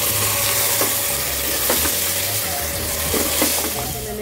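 Marinated beef frying with onions for chana boti, a loud, dense, continuous sizzle close up with occasional stirring knocks in the pan.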